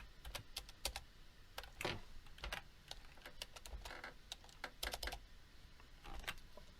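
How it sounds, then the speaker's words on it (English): Quick, light keystrokes on a computer keyboard as a server IP address is typed, an uneven run of soft clicks with brief pauses, close and quiet with no talking. "Now I will just have to type IP address of the server."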